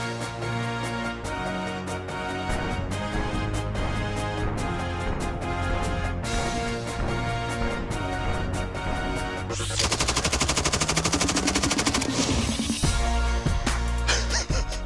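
An M249 SAW machine gun fires long, rapid bursts outdoors, a dense loud rattle of shots running nearly continuously with brief pauses between strings of fire.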